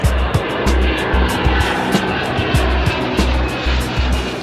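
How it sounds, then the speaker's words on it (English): An Antonov AN-124 Ruslan heavy cargo aircraft with turbofan engines taking off at nearly 400 tons, a loud, sustained engine roar with a rhythmic low pulsing throb, close by. "Despite of its enormous takeoff weight of almost 400 tons, AN-124 can take off even from sand."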